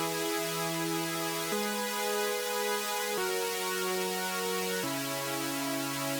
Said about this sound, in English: So for my first super saw layer, I'm choosing a sound out of Serum.